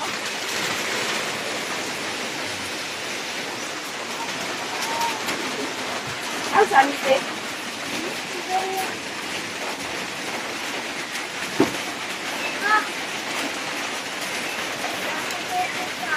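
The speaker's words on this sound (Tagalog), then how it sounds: "Daming ulan." Heavy typhoon rain pours down steadily for the whole stretch as a dense, even hiss, with a few brief knocks and splashes standing out now and then.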